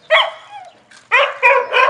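A dog barks at a rural livestock shelter in a village in Azad Kashmir, giving one drawn-out bark, then a short gap and three loud, close barks in quick succession.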